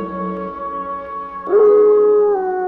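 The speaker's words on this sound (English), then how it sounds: "these werewolf howls are making me uncomfortable" A long, tonal werewolf howl rises and holds, loud and close, with a second voice-like swell joining partway through and no talk.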